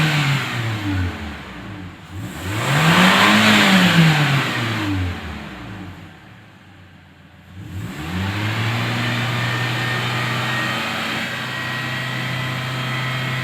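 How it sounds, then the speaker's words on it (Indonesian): A Toyota Innova or Fortuner petrol engine during a tune-up cleaning is revved twice, each throttle blip rising and falling in pitch, then settles into a steady, loud elevated run with no talking. "Mainkan gas."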